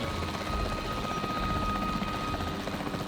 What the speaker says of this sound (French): l'hélicoptère de l'équipe de capture.